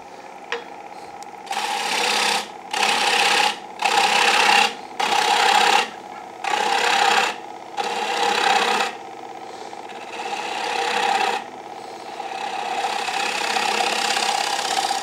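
Wood bowl spinning on a lathe as a tool cuts a tenon, giving a series of rough rasping scrapes in bursts of about a second with short gaps, then a longer continuous cut, loud and close without speech.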